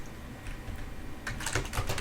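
Typing on a computer keyboard, a steady patter of key clicks that turns louder and busier in the second half, close and alone with no voices.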